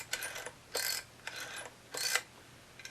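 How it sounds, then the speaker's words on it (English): The film advance on a Komaflex S camera is cranked in several short ratcheting bursts, each a close, dry mechanical whir with brief gaps, ending in a faint final click. "This is all ready to crank up to"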